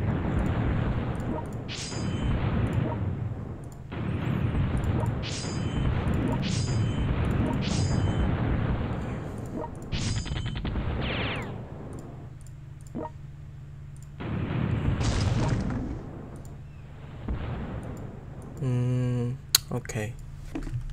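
Video game artillery bombardment: a series of booming explosions and crashing impacts bursts out in irregular clusters, loud and close, with brief quieter gaps between volleys and a sharp final blast.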